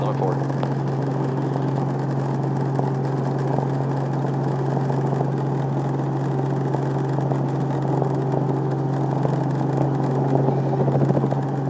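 A helicopter departs from the general aviation ramp at Salt Lake City, heard as a steady low engine and rotor drone that stays even throughout, with radio voices talking over it.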